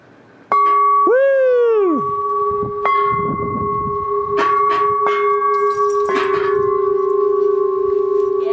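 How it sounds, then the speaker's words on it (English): Bells ring out at a mountain lodge in a series of clanging strikes with long sustained tones, several overlapping rings following one another and carrying on loudly for over eight seconds. "Hey, ring the bells."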